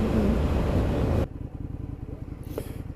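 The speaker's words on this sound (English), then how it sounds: "at sort of low revs, then it's a bit lumpy is the engine, but at high revs it's stunning" An Indian FTR 1200S flat-track motorcycle is ridden on the road, its engine a loud, steady rumble that drops abruptly to a lumpy, pulsing idle partway through, with no talk.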